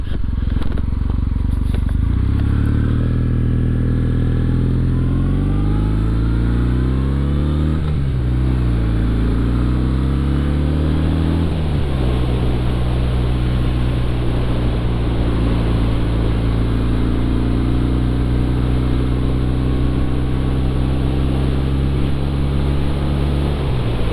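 A Kawasaki motorcycle pulls away and accelerates, its engine note rising through repeated climbs in pitch as it shifts gears, loud and close, then settling into a steady cruising drone.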